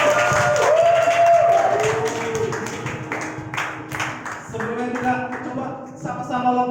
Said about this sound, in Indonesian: Saya mau dengar suara tepuk tangan yang paling kuat dari tempat ini